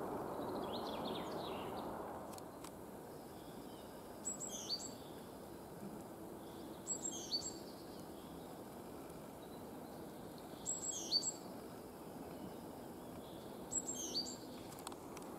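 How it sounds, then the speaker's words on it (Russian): Small birds sing in a spring forest, with short bright chirping phrases repeating every few seconds, fairly distant and clear over a soft steady background hiss. "Птицы на все лады."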